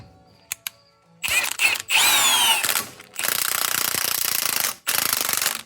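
Several loud bursts from a power tool grind and cut away the bolt hole on a Subaru rear wheel bearing, broken by short pauses and a few sharp clicks at the start.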